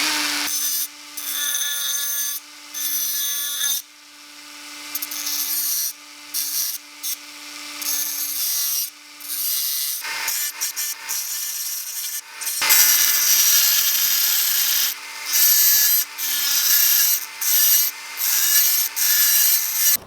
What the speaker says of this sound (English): This hardened steel Irwin utility knife blade is getting through this titanium, little chunks of it.